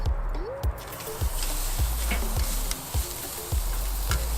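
Two pieces of steak sizzle steadily in a hot pan, a continuous close hiss broken by soft, regular thumps and pops roughly every half second.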